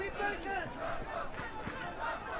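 Shouting rises from the crowd at a school 1st XI hockey match between Selborne College and Grey College, with voices calling out across a noisy, steady stadium murmur.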